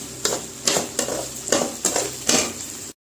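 Pirandai (adamant creeper) frying in a pan for chutney, with sizzling oil and a spoon stirring in regular scrapes roughly every half second, close and steady.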